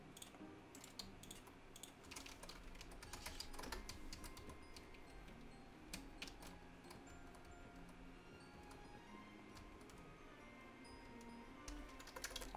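A computer keyboard being typed on during a Pixelmon game session, with a dense, quiet run of close clicking keystrokes that continues steadily without a break and no speech.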